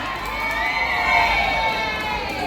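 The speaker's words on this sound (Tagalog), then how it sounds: "Palakpakan na may kasamang sigawan." Crowd at a Hong Kong chapter officers' presentation erupting in loud, steady cheering and shouting with applause, a sustained roar with no break throughout.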